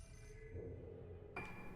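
A phone rings inside the horror video game Fatal Frame 4: The Mask of the Lunar Eclipse, a short electronic ringing tone that cuts in alone, faint and slightly eerie.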